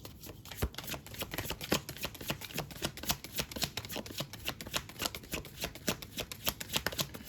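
Tarot cards are shuffled continuously in quick riffling, rapid close-up flicks and slaps at a steady pace with no voice over them.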